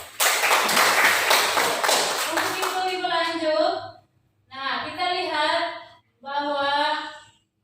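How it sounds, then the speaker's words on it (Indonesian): An audience claps briskly in a classroom for several seconds. Afterward a voice speaks in short phrases with pauses between them. "beri aplaus dulu"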